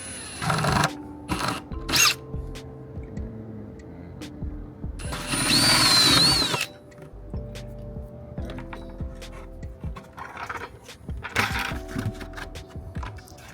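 A power drill bores a snug hole for a pipe in a DIY Earthbox planter. It gives a loud, close whirring burst of about two seconds, with shorter clicks and handling knocks before and after.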